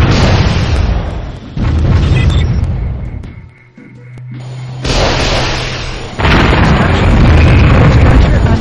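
A laser satellite strike hits the ground in the strategy game Warzone 2100, loud roaring blasts coming in repeated waves with short dips and a low hum between them, near and heavy, with no talk.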